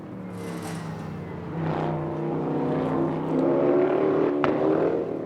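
A Le Mans prototype race car passes the grandstands through an infield section during qualifying, its engine rising from distant to louder and nearer, pitch shifting as it accelerates through the corners.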